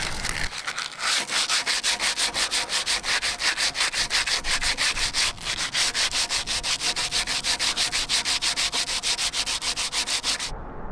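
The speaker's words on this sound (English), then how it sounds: "Cheapest sandpaper available. Just crumbles off." Rapid back-and-forth hand sanding with cheap, crumbling sandpaper, working on a mast step for a 42 ft catamaran: steady rhythmic rasping strokes, loud and close, continuing for about ten seconds before stopping abruptly.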